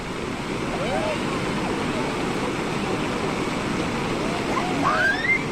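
A strong current of floodwater rushing over a culvert on the Silota–Bilchhari road in Madhya Pradesh, a dense, continuous roar that stays loud and steady throughout, with faint whistling tones over it.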